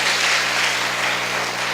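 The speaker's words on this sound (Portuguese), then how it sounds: "Vamos aplaudir pelos anfitriões. Bem forte." A church audience applauds the hosts in a dense, steady roar of clapping, loud and unbroken with no talk over it.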